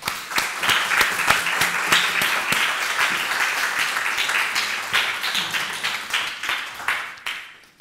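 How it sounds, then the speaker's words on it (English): A lecture audience of mixed students gives warm applause for a speaker, a dense, close round of clapping that holds steady for several seconds before thinning out at the end. "So all of you, a warm applause for Shimon"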